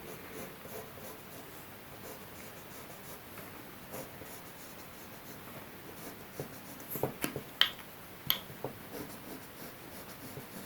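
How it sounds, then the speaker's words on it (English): Pencil drawing a strip on scrap paper while making a paper basket: soft, close scratching strokes against paper, quiet and steady, with a few sharper scrapes toward the end, no talking. "we're going to take the scrap paper, it's the same colour as my square piece of paper, and just draw basically a strip"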